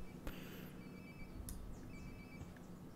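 A phone ringing in Life is Strange: Before the Storm, faint repeated electronic trill tones in a quiet room, coming from a short distance away, with a couple of soft clicks between rings.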